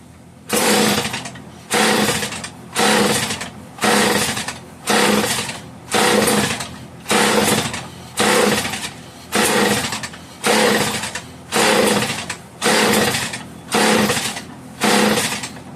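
Homelite 150 chainsaw engine running on full choke, revving loud and close in about a dozen regular bursts, each surge rising and then dropping back in a steady pulsing rhythm.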